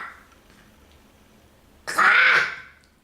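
A voice makes a short, sharp croaking call imitating a frog, a single burst after a quiet pause, close and fairly loud.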